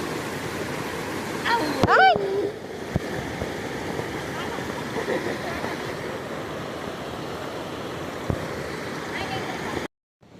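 Steady rushing of the Purna River flowing over stones in a forest fills the whole recording, with a brief burst of talk near the start rising above the constant wash.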